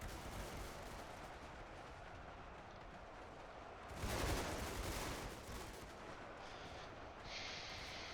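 Massed gunfire from hundreds of thousands of French and British soldiers in a simulated battle, a faint distant continuous crackle and rumble with a louder swell partway through.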